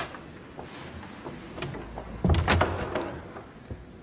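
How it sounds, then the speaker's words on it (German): A door swings and shuts with a heavy thunk in an interior room, preceded by faint footsteps and rustling, fairly close and moderately loud. "Tür zu!"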